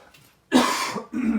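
A person clears their throat and coughs close to the microphone: a short rough burst, a brief pause, then a second cough, in an otherwise quiet room.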